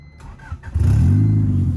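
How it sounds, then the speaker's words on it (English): A Nissan R32 Skyline, recently fixed with a replaced sensor, cranks briefly with a few whirring starter pulses, then catches and settles into a loud, steady idle close by. "now if I turn on the car"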